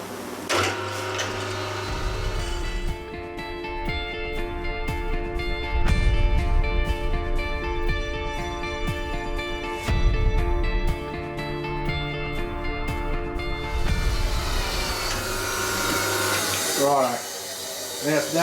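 A milling cutter chatters during a very light machining pass, producing a loud, ringing tonal whine with strong harmonics that comes in surges separated by short pauses.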